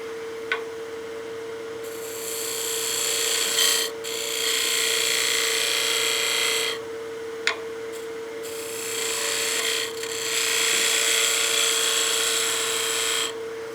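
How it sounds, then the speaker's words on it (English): A skew chisel takes slice cuts across the end grain of a spinning wood block on a lathe, with a steady motor hum and several bursts of bright, hissing cutting lasting a few seconds each, close by and without speech. "We'll use the skew to do a little bit of a slice cut here on the end."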